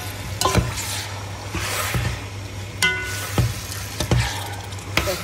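Green vegetables and tomato sauté in a pan with a continuous soft sizzle. Several distinct spoon scrapes and knocks land at irregular intervals, close and fairly quiet, with no speech.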